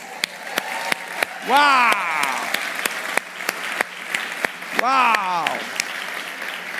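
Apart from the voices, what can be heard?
audience applause at New Year countdown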